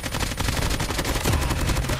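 Rapid automatic AK47 fire in COD Mobile, a dense, continuous burst of loud shots packed closely together for the whole stretch, heavy low thump under each report.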